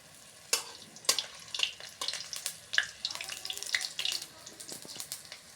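Five green chilies fry in hot oil for a Bengali water spinach (kalmi sag) dish, giving a steady close crackle and sizzle with sharp spattering pops and occasional stirring scrapes.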